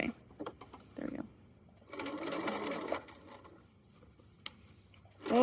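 A sewing machine stitches fabric for the back panel of a fanny pack, with short bursts of whirring followed by a longer steady run. A sharp click comes near the end, close and fairly loud.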